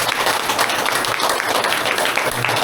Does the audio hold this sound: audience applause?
yes